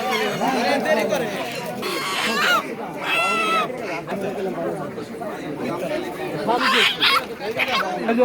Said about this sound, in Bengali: আরে ফার্মি মুরগি উঠছে আজকে